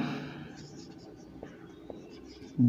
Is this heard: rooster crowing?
no